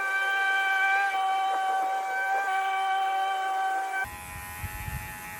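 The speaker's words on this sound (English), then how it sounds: "so I'm gonna shave my head." Electric hair clippers buzz steadily at close range while shaving a head, with a tonal whine that shifts slightly in pitch, then drops into a rougher, lower rumble as the blades press against the scalp.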